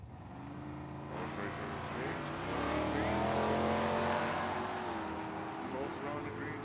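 A 1987 Monte Carlo drag car at Tucson Dragway, its engine roaring and rising in a strong sweep before easing off, heard from trackside with an announcer talking over it.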